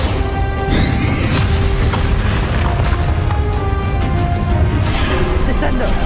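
Bombarda blasting spell exploding in Hogwarts Legacy during a dragon fight, a heavy boom and crash over a dense, continuous roar of game effects and music, with voices present.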